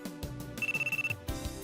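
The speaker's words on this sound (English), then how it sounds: "my phone suddenly beeped" Phone text alert in a visual novel game, a short run of rapid electronic beeps with a steady tone over background music, brief and moderately quiet.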